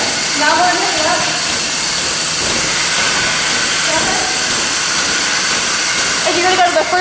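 A cow milking machine's suction runs with a steady, loud airy hiss, rhythmic pulsing sounds rising above it as people speak nearby.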